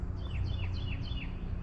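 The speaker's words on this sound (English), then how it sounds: "There's two big old birds up there on that thing." Two large birds perched in a big magnolia tree in the evening give a series of about five short descending chirps, moderately distant over a low outdoor background hum.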